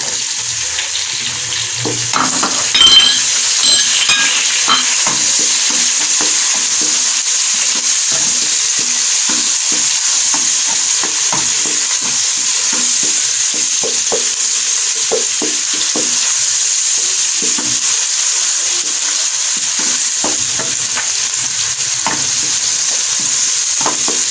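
Crushed tomato cooks in oil for masala kaleji, a steady close sizzle with scattered stirring clicks and a brief louder burst near the start, no voices.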